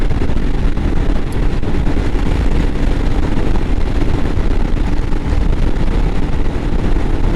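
Strong crosswind buffets a motorcycle, a Royal Enfield Himalayan, riding through a mountain gorge, making a loud, steady, broadband roar of wind rushing past the rider throughout, with no talking.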